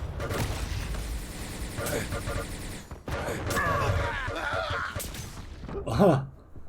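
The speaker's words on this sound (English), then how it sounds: "And Corsair hits a couple rails." Railgun shots in the video game Quake during a competitive match, sharp blasts mixed into a dense, busy layer of game effects, with one louder hit near the end.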